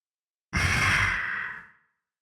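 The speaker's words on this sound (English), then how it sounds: "the breathing sound continued in bursts" A single long, breathy exhale, close and fairly loud, rising quickly and then trailing off into silence.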